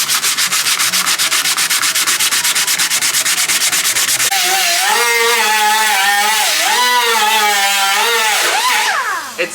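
Coarse 80 grit sandpaper rubbed over Bondo filler on a car body during paint prep, a loud, steady scraping that starts as fast even strokes, then turns into longer sweeping rasps with a wavering squeal, close and continuous with no talk.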